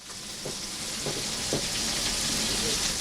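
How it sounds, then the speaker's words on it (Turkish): Floured liver pieces for Edirne-style pan-fried liver sizzling in hot oil, a steady, close, broadband crackle and hiss that swells slightly, with faint stirring or clinks of utensils and no talking. "Aynı zamanda o unladığımız ciğerleri kızgın yağın içine atmak da gerekiyormuş."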